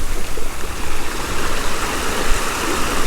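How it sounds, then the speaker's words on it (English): Waves crash and wash over a rocky shore at Salt Pier on Bonaire, a loud continuous churning surge that swells and recedes through the whole stretch. "when the waves are crashing like this, it's hard to see the rocks"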